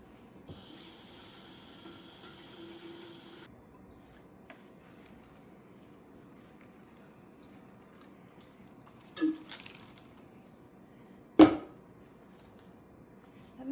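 Water poured from a container into a plastic seedling tray while starting garden plants, heard as a soft running trickle for a few seconds, followed by a couple of brief clunks and splashes as the tray or jug is handled.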